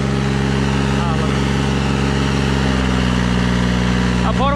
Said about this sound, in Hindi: ये देख ट्रैक्टर कैसे घूमने लगा, इतनी की इतना कीचड़ है